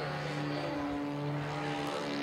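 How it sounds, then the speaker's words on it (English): A radio-controlled model airplane flies aerobatics and flat spins at a club field, its small propeller engine giving a steady droning buzz that shifts slightly in pitch, heard at mid-distance without talk. "Very acrobatic plane."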